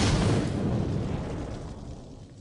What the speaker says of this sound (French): Il crée cette énorme explosion.